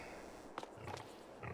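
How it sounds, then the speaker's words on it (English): Pigs grunt and snort in Farming Simulator 22, a few short low grunts standing out of a steady farm-yard background hum, fairly faint. "Pigs are here."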